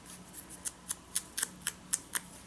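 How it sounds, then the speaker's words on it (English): Scissors trim a sponge for an altered book journal, giving about nine crisp snips at a fairly even pace, close and clear with no talking. "then I kind of trim them down with my scissors"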